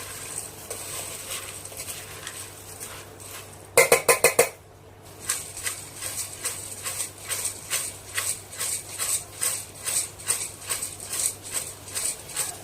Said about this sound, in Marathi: चला हे सगळं आता मिक्स करून घेऊया आपण।